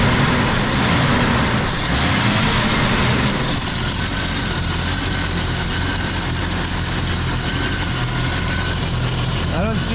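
A Renix Jeep Comanche engine idles after an upgrade to 4-hole fuel injectors, running steadily and fairly loud close by, with a slightly uneven, rough tone throughout.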